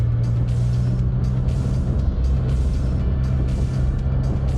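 A Can-Am Spyder three-wheeled motorcycle speeds up on a ride through Sea Isle City, New Jersey, its engine a steady low drone under rushing wind noise heard from the rider's seat, with no talking.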